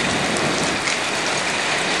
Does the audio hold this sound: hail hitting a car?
yes